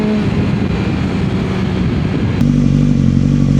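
BMW S1000XR 170 bhp motorcycle engine droning steadily while riding on the road, loud and close, with the tone dropping lower and growing heavier partway through as the revs change.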